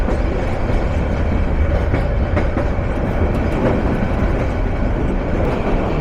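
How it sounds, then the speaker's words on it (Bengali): Agnibina Express passenger train running on the line toward Tarakandi, a steady loud rumble of wheels with faint rhythmic clatter throughout, no voices. "তারাকান্দি এই দিকে তো যাচ্ছি অগ্নিবীণা এক্সপ্রেস ট্রেনে"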